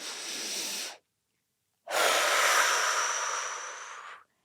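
One short breath, then a pause, then a long, slow, deep inhale, close and airy, with no talking.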